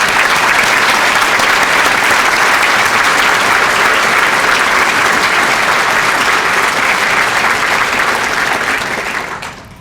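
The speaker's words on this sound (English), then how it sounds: "maybe we can give Tim a loud round of applause" A large audience at a police department employee-of-the-year ceremony gives a loud, dense, sustained round of applause for an honoree, a continuous roar of clapping that holds nearly ten seconds before fading.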